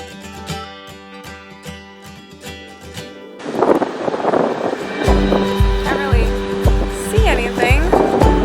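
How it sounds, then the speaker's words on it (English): Strong wind buffets the microphone at a beach, with a roaring gusty rush that grows heavier partway through, and people talk over it. "So windy."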